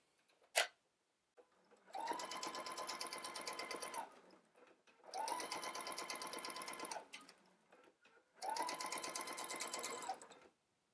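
A domestic sewing machine stitches a skirt seam on a dress, running in three steady, close runs of about two seconds each with brief quiet gaps and a sharp click before the first.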